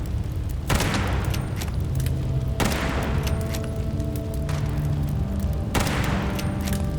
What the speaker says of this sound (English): Very inaccurate shooting here, ESO.